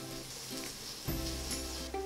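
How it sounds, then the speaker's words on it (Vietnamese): Shallots frying in oil in a pot give a steady close sizzle, with a louder burst of crackling about halfway through as more goes into the hot oil, and no talking. "Phần hành tím này mình phi cho nó vàng luôn."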